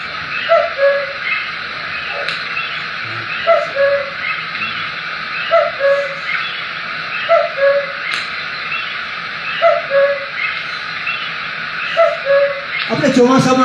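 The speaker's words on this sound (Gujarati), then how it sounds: "કુક્કુ આપણું માઇગ્રેટરી છે, એનો આ અવાજ છે ને કુક્કુ" A migratory cuckoo calls in a repeated two-note pattern, evenly spaced about every second, moderately near over a steady background hum.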